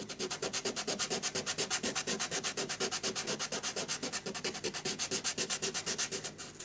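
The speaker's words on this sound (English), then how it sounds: "And a quick sand." A craftsperson hand-sands small pieces to level them while making a miniature Tudor tea shop model, giving a close, steady rhythmic back-and-forth rasp of many quick even strokes with no talking.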